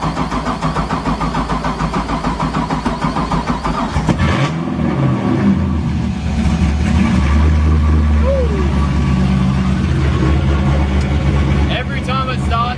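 A V8-swapped Nissan S13 cranks with a fast whirring starter, catches partway through and settles into a loud, deep, lumpy idle with a slight revving blip, close by.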